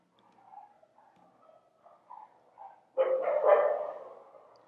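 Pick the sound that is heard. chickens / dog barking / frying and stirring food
dog barking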